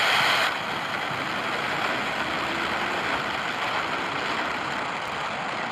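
SpaceX Falcon 9 rocket engines ignite at launch, producing a loud, continuous, broadband roar that holds steady and rumbles without pause. No one speaks over it.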